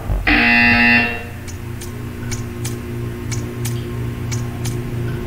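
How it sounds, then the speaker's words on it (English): A video game buzzer sounds once, loud and steady for about a second, followed by a quiet hum and a faint, regular ticking. "You will hear a buzzer."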